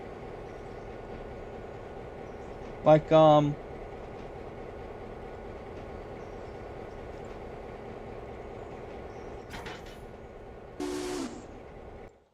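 Trains running on their tracks in a video game, a steady low rumble under the whole stretch, with brief louder bursts and short spoken words cutting in.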